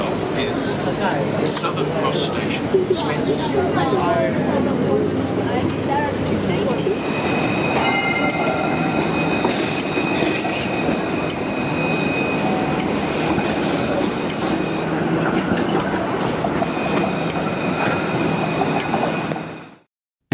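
An A-Class tram rolls along steadily with a continuous rumble of wheels on track, squeals and clicks, and a voice speaks over the noise before it cuts out.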